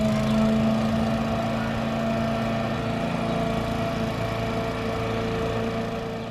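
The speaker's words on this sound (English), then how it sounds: "you can hear the lawnmowers out" Lawnmowers drone steadily outdoors on an early spring morning in suburban Melbourne, a continuous mid-distance engine hum with no talk over it.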